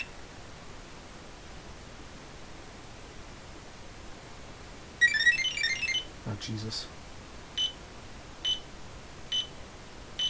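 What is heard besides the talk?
beeps from Ideal Maniac electronic game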